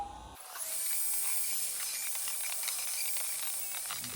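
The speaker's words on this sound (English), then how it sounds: "So now we'll just hoover us off." Vacuum cleaner hoovering loose material off model railway scenery, a steady loud hissing suction roar that starts abruptly and continues unbroken, with small rattles of debris being drawn up.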